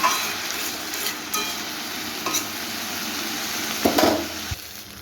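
Papaya and potato curry stirred in a pan after the lid comes off, a low simmering hiss broken by a few scraping strokes and a light metallic clink near the end, close and without talk.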